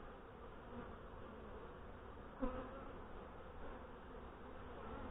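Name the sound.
honey bees and a wasp buzzing at hive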